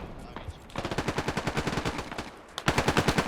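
Sustained automatic gunfire in the tactical shooter Squad: a rapid, even stream of shots with a short pause near the end before another loud burst resumes.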